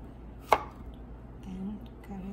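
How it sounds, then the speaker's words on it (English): A knife cuts a peeled banana into pieces for a fruit salad, giving one sharp close chop on the board followed by faint quiet handling, with no speech. "Then cut it into half, then into another half."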